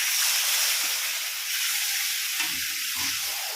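Loud, steady hissing sizzle of a cup of salted water hitting a hot pan while making rava bonda, continuous throughout, with a few soft stirring knocks near the end.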